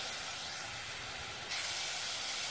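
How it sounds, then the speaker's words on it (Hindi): Garlic, onion and chili paste fries in a pan for a zimikand curry, giving a continuous close sizzle with no talk that grows noticeably louder and brighter partway through. "लहसुन प्याज मिर्ची पेस्ट और इसको भूनना है अच्छे तक"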